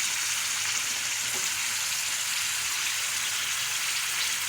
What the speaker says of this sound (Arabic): هشوحها شويه كده، هقلبها تاني عشان ما تنزلش ميتها